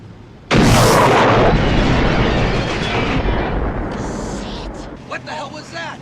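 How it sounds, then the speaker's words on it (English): Rocket launcher fires in the 1985 action film Commando, opening with a sudden loud blast that rolls into a long rumbling explosion and debris roar, fading as voices start shouting near the end. "Cindy rescues him by using the rocket launcher."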